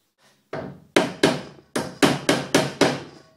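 Hammer blows strike nails into a wooden fingerboard box, about eight sharp knocks in a quick, slightly uneven rhythm, loud and close with no talking.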